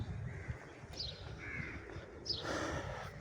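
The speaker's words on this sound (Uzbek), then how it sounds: "Qarg'alar ko'p ekan." A few crows caw faintly at a distance in Sharm el-Sheikh, Egypt, two short calls separated by a pause over quiet outdoor background.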